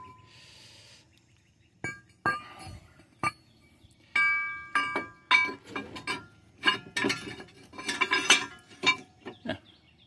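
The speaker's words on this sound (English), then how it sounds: "Now we just gotta fight and get the brake hardware back on." Metal brake hardware goes back onto a 2010 Mercury Mariner during a front brake job, with irregular close metallic clinks and clatters that grow busier toward the end.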